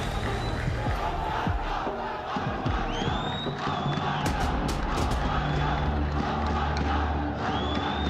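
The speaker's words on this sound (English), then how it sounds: "you can hear the crowd getting loud, whether it's boos, whether it's cheers" Esports crowd at the FC Pro World Championship group stage roaring steadily in a large arena, a dense wall of cheers and shouts with a few whistles rising above it, loud and sustained throughout.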